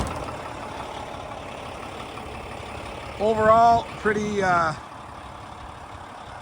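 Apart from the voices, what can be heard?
Volvo VNL780 D13 truck engine idling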